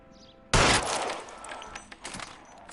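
A shotgun fires once in a video game, a sharp loud blast with a shattering crack that decays into scattered clatter and small thuds.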